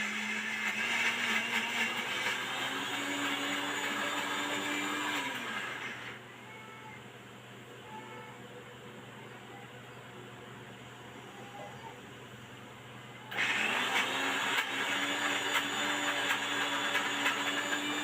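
An electric mixer grinder whirs loudly as it coarsely grinds fennel and rock salt. The motor runs in two bursts separated by a quieter pause of several seconds.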